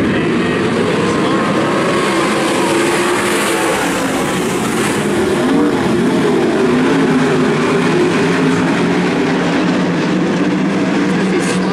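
Race cars on a track rolling for a restart at a night race, a dense, steady roar of multiple engines droning continuously without breaks, with faint talk mixed underneath.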